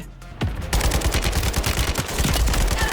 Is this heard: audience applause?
no